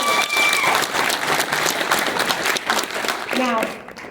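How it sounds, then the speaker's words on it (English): Full audience applause at a festival closing ceremony, thick and continuous clapping from a crowd, with brief voices and a short whistle-like tone rising near the end before it fades. "let's give them all a round of applause"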